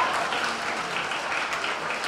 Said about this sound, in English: Round of applause, Mr. Mike.